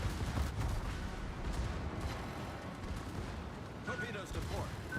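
Naval guns firing in the World of Warships video game, heard as low, rumbling booms and muffled blasts in a dense, continuous battle din, fairly faint, with a voice talking over it.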